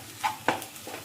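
Scrambled egg with salt stirred in a pan, two quick scraping strokes followed by a softer third, close and brief.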